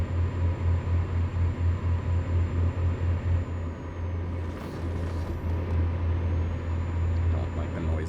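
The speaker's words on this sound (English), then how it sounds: "I don't like the noises that this truck makes when I turn." A heavy truck in American Truck Simulator, driving through a turn with a steady, throbbing low engine drone and a loud, dense rushing wash of road and mechanical noise that dips briefly midway and then resumes.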